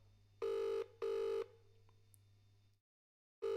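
An outgoing phone call rings in two long electronic bursts, a pause, then silence before a third ring begins, fairly clear over a low hum with no one speaking.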